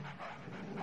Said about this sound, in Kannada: ನಾಯಿ ಕರೀರಿ.